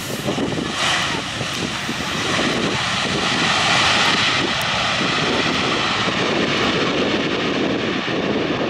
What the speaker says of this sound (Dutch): Het is een Airbus. Volgens mij Airbus A321.